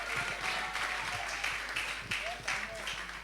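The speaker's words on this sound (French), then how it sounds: "Est-ce qu'on peut acclamer le Seigneur pour lui?" A church congregation applauds together, a steady wash of clapping from many hands in a large room with voices mixed underneath.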